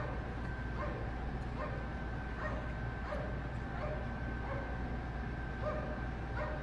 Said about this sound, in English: then there's the dog, the killer dog barking at him